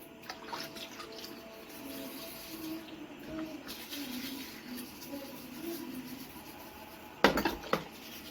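Dishes being scrubbed and washed: close, soft scraping and rubbing with occasional clinks, then a sharp cluster of clattering plates and metal near the end.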